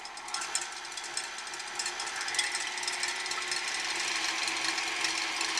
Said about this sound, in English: I'm going to start whipping the egg whites on medium speed